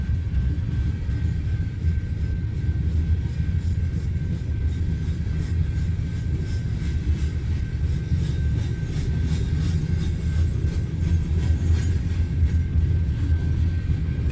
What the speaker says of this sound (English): And now I think they got everything working together to get this train out of here.